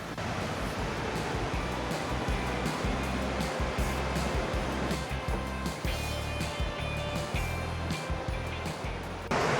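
A river rushes through a canyon beside a suspended trail in Banff in the Canadian Rockies, giving a steady, loud broadband roar of churning water with no letup.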